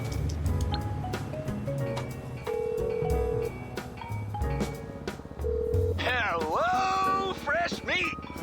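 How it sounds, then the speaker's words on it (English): A phone in GTA 5 Online dials out a call, with short beeping tones and electronic chimes layered over game music and steady narration, ending in a warbling ring-like melody. "simply pull out your phone and call Dax."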